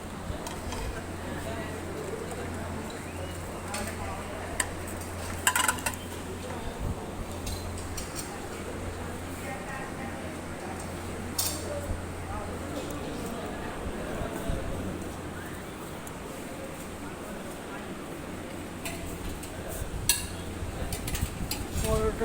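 Plates and cutlery clink now and then at a breakfast buffet, small sharp taps over a steady low hum and room murmur, with people talking nearby.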